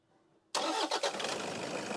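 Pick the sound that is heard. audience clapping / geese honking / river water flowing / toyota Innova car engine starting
toyota Innova car engine starting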